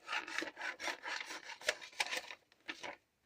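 Scissors or a blade cut through embossed tracing paper close up, giving a series of quiet, dry rasping snips with short pauses between them.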